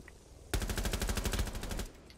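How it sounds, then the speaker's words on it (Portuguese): Rapid automatic gunfire from the Rainbow Six Siege video game: one loud, sustained burst of closely spaced shots lasting about a second and a half, then an abrupt stop. "Que tiro foi esse que tá lá?"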